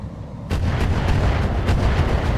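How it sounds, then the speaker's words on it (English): Missiles launch and strike in the mech game RogueTech, a loud, booming barrage that starts abruptly and then keeps pounding with repeated heavy blasts over a rumbling background, with no talk. "One of those missiles hit."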